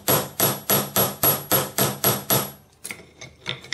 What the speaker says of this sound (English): Hammer out the ball and also the stem as well.